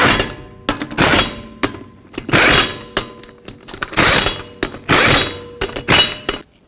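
Lug nuts are spun and run onto a 2006-2011 Chevrolet HHR wheel, with close, loud metallic clunks and ratcheting bursts coming in irregular clusters separated by brief pauses.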